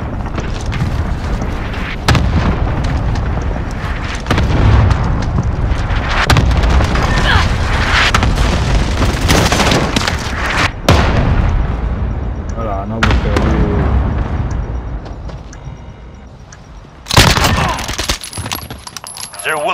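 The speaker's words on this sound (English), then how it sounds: "Enemy cluster strike. Take cover." A cluster strike hits in Call of Duty: Modern Warfare, with a dense barrage of loud, overlapping explosions and booming impacts over a rumbling bed, and game voice callouts heard amid the blasts.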